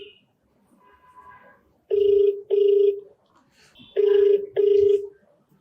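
An outgoing phone call plays its ringback tone: two paired rings, a double burst, a gap, then another double burst, clear and steady, with faint background murmur between the rings.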